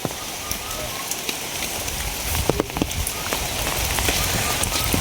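Rain falling on a rural Bangladeshi farmstead where cattle stand out in the downpour, a constant close patter with scattered sharper drops and knocks over the steady wash.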